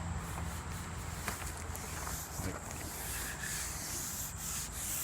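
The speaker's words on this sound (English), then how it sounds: "So I've been cleaning it up with this drill" A drill with an abrasive attachment grinds rust and layers of paint off the steel bonnet of a Honda S600, giving a steady, close, rough scraping and rubbing sound throughout.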